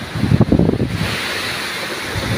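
Strong wind roars and buffets the microphone during a major flood, with a heavy rumbling gust early on that settles into a steady, noisy rush.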